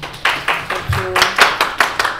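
Audience applause honoring actress Sadia Islam Mou at a dance foundation event in Toronto, a loud burst of rhythmic clapping with irregular beats, joined by voices underneath.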